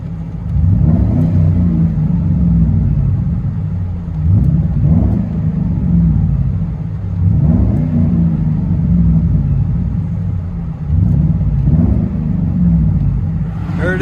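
Mercury Grand Marquis GS with a 4.6L V8 and aftermarket exhaust idling, heard from inside the car as a loud, steady low rumble with a slow rhythmic pulsing swell over fourteen seconds.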